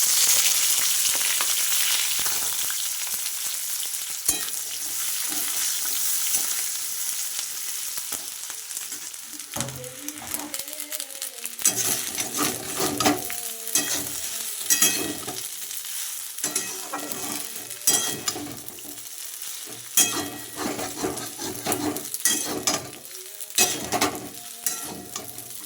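Onions frying in hot white oil in a pan, a steady loud sizzle with intermittent scraping and stirring clatter throughout, no voices.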